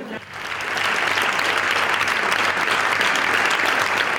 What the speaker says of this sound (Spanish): Con este aplauso, el Parlamento despedió hoy al nacionalista Carlos Aymerich